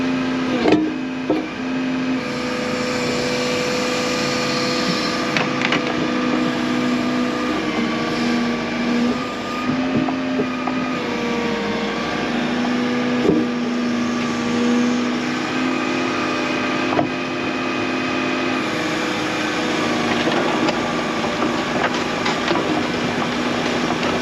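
An excavator's diesel engine drones steadily as the digger swings around, a continuous mechanical hum with occasional clanks and knocks, no talking.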